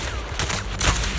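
Gunshots from Grim Vulture in the video game Zenless Zone Zero, heard as a loud burst of several rapid, close shots, the last one strongest, over a dense game soundscape.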